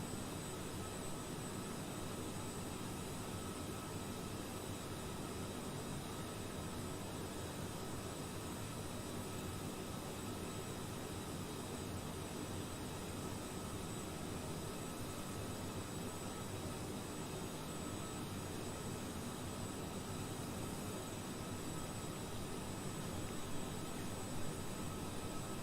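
Airbus A330-300 in Emirates livery in Microsoft Flight Simulator 2020, with a steady, dense engine and cabin drone holding at an even level throughout, with no voices.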